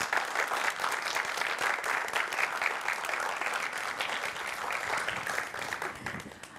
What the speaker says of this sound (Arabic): اكيد تحت تصفيقات الجمهور